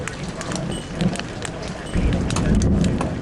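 Big hailstones, around one and a half to two inches, pound a metal highway building in a storm, a dense, loud, continuous clatter with sharp individual impacts that swells heavier partway through.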